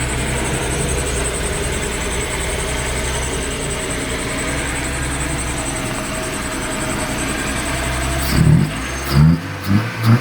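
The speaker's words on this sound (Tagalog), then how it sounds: "So buhay na yung makina ng Honda Civic, umaandar na." A Honda Civic engine, brought back to life after an ECU repair for a crank-no-start fault, runs steadily at a close, even idle, with a few louder knocks or revs near the end.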